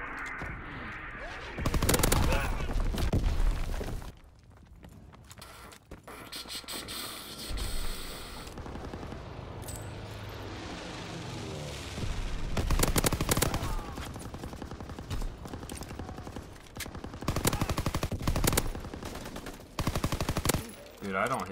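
Enemy gunfire in a video game comes in loud bursts of rapid automatic fire and single shots, stopping and starting, with a player talking between and over the shooting.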